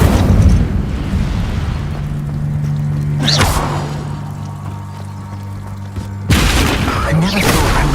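Incendio fire spell cast in the Hogwarts Legacy video game: loud bursts of whooshing fire blast near the start, middle and end over a steady low game drone, with a voice speaking in places.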